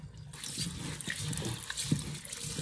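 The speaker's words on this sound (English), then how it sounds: "some running water until the water coming out from it runs clear" Tap water runs steadily over rice being rinsed until the water clears, a continuous close splashing and trickling with occasional louder splashes as the grains are stirred.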